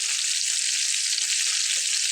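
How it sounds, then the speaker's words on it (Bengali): Sea fish frying in oil in a frying pan makes a constant, dense sizzle, close and even in loudness, with no voices over it. "আমার কোনো ফ্রাই প্যানে কিন্তু মাছ লেগে যায় না"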